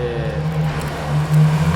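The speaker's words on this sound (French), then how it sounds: "juste derrière il y a une LaFerrari frérot, elle a les clapets ouverts" A Ferrari LaFerrari supercar with its exhaust valves open, heard as a steady, deep engine drone at moderate distance that swells slightly near the end, with no talking over it.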